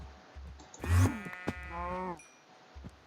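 A sheep in a Minecraft mutant creatures mod gives a single drawn-out, wavering bleat, close and clear, preceded by a brief thud and a short burst of noise.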